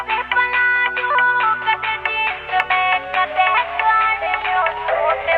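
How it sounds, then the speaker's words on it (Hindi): A phone ringtone plays a bright, repeating electronic melody, loud and close, with no talking over it. "ले फोन सुनियो किसका आ रहा है।"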